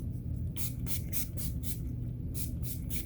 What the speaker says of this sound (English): I am going to be using NYX Professional Makeup Matte Finish Finny Matte Long Lasting Setting Spray.